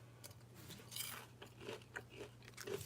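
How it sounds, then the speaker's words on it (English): A small fried shrimp is bitten and chewed close to the mic, giving a few quiet crisp crunches spread over a couple of seconds with no talking. "You heard the crunch though?"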